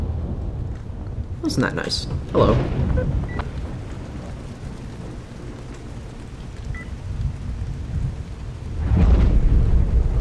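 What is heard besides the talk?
rain and thunder in video game S.T.A.L.K.E.R. GAMMA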